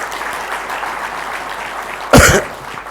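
Audience applause at a professional motivational seminar in India, a steady wash of clapping running for a few seconds, then a sudden loud close burst like a cough or handling noise near the end.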